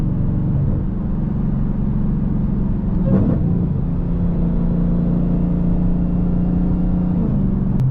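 A supercharged Dodge Demon V8 drones at steady idle and cruise, a loud, constant low rumble with a brief blip of revs partway through.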